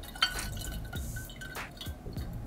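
Water pours into a spray bottle for a homemade cleaner, giving close, small drips and glassy clinks with a light liquid splash.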